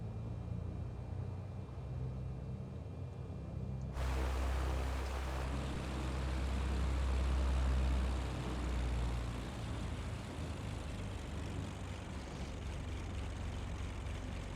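A Beechcraft Baron twin-engine airplane back-taxiing on a runway, heard from inside as a loud, steady engine and propeller drone that swells after a few seconds and then holds, with no talking.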